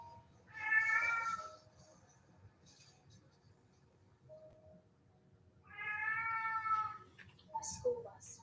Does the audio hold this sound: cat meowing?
yes